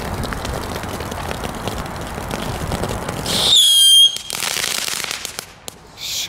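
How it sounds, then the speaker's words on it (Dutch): Firecracker crackling ribbons going off nearby, a loud dense crackle rolling for several seconds, then a sharp burst followed by scattered pops and a few final cracks outdoors. "Zo, wat een harde knetter komt daar vanaf, joh."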